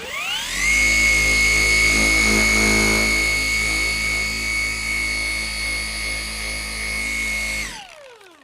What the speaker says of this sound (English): This polisher uses the flex batteries, not M18.